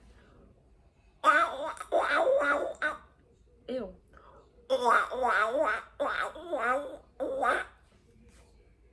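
A person imitates a duck call with the voice, giving several bursts of quacking, throaty sounds with short pauses between them, close and fairly loud.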